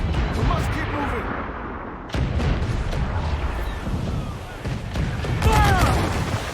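Ship cannons and mortars fire during a naval battle in Assassin's Creed IV Black Flag, several heavy booms and blasts rolling over a loud battle din while crew members shout orders.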